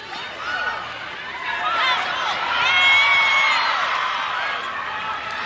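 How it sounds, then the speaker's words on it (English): A large crowd at an NCAA field hockey championship match roaring and shouting continuously close to the pitch, swelling louder in the middle, with high excited voices and whoops blending into a dense wash. "Crowd is loud and close to the pitch today."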